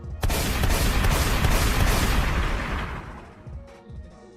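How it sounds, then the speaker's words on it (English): Gunshot sound effects inside a building: a sudden loud burst of gunfire that rings out with a long echoing, rumbling decay lasting several seconds. "I need some gunshots in the building."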